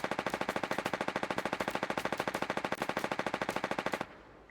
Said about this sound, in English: The MP5, one of the worst SMGs in the SF side.